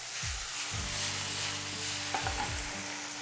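Butter browning in a hot pan with a steady, soft sizzle, joined by a few scraping stirs and light clinks of a utensil against the pan, no voices.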